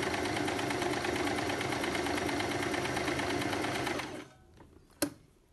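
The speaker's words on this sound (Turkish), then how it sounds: "şuraya bir zikzak dikiş yapıyorum" A domestic sewing machine runs a steady, continuous zigzag stitch along the side seam of a knit jersey tank top for about four seconds, then stops abruptly, leaving near quiet and a brief click.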